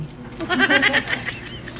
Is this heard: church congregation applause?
no